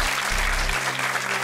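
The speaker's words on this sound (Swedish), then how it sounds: "Stor applåd för dig." Studio audience on a Swedish quiz show applauding a returning contestant, a loud, dense, continuous burst of clapping close up with no talk over it.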